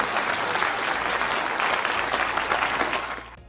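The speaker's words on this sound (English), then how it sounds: "Please clap." An audience claps for a few seconds at a steady, dense level before quickly dying away at the end, with no voices over it.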